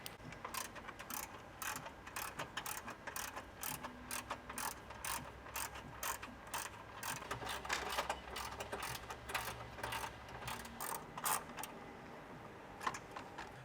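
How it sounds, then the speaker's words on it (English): A ratchet clicks in rapid, repeated bursts while a mechanic backs out the 10mm bumper bracket bolts on a 2022-or-newer Toyota Tundra, the crisp pawl ticks sounding close with no talk over them. "So from the top, we're gonna go ahead and remove those 4 bolts."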